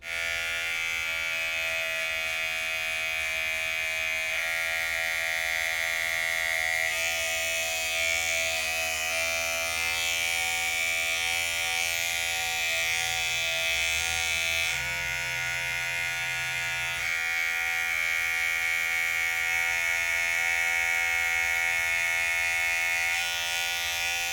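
An electric hair trimmer buzzes steadily for a self-haircut, a close, constant hum whose tone shifts slightly as it moves over the head.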